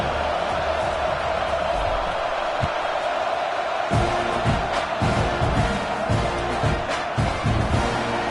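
Stadium crowd noise in an NCAA college football video game, a constant roar of distant fans with swells of cheering and thumping hits, heard without talk.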